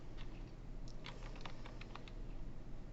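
Rapid typing on a computer keyboard while coding, light clustered key clicks in an irregular patter over a steady background hum, fairly faint and close, with no voices.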